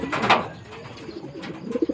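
Racing pigeons from a south-route race, back in the loft after homing, make soft low coos, with one fuller call near the start and quieter murmuring calls later.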